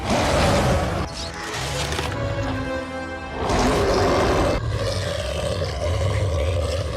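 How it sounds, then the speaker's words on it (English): A werewolf from the 2025 Wolf Man movie trailer roars, loud and close in two long, harsh, rumbling bursts separated by a lower growling stretch, with heavy cinematic rumble underneath. "this roar just sounds like the things from the Quiet Place movies"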